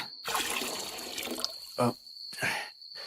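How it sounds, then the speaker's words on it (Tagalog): Water runs from a kitchen tap in short bursts, splashing as a wound is rinsed, close and fairly quiet, with a faint steady tone underneath. "Linisin natin ang sugat mo ng tubig."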